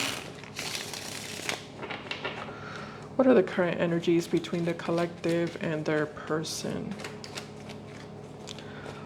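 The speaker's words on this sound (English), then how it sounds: "One more shuffle." Tarot cards being shuffled by hand: a quick run of crisp riffling flutters and soft slaps, close and clear, following someone speaking over a quiet background.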